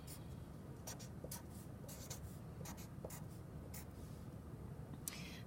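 A pen or pencil writes out a row of Pascal's triangle in short bursts of quiet scratching strokes, close and faint, with no talk over it.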